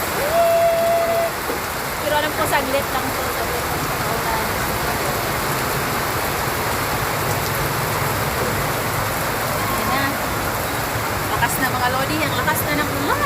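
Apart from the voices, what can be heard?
heavy rain pouring down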